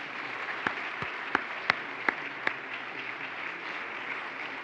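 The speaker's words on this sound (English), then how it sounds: "I would like you guys to clap for them too" Audience applause at a design association's annual meeting, a quiet, far-off wash of clapping with a handful of sharper individual claps standing out near the start.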